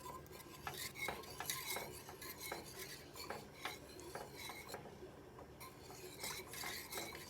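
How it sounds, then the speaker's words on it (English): Fettuccine pasta with cream and Parmesan stirred in a pan, quiet repeated scraping and clinking of utensil against the pan in an irregular rhythm, close and soft with no speech. "So just keep stirring it"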